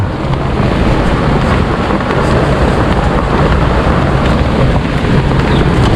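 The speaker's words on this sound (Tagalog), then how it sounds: "Nababasa tayo ng ulan." Heavy rain falls during a wet drive, a loud, steady roaring wash mixed with wind buffeting the microphone, constant throughout with no talking.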